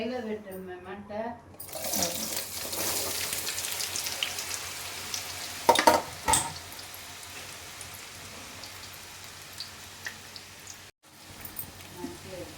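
Bitter gourd pieces frying in hot groundnut oil in a kadai, a dense rain-like hiss that runs steadily for several seconds with a few louder crackling bursts, after a brief stretch of talking.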